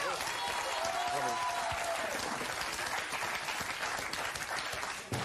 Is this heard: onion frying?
no